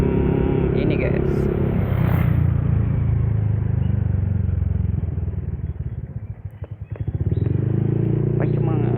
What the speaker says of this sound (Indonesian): Ini knalpotnya ya berisik gak apa-apa lah kayaknya guys ya